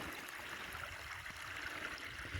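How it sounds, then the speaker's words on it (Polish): Small waterfall on a stream swollen after a very wet season, a steady, soft rushing and splashing of water heard alone at moderate distance. "Już tu nawet wodospad nam się zrobił."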